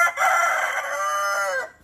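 A desi rooster crows once, loud and close, a long drawn-out call that trails off at the end.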